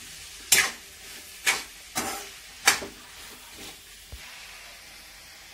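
Cumin seeds sizzle in hot oil in a pan for a dry cauliflower dish, heard as four or five short, sharp hissing bursts spaced about a second apart over a quiet background.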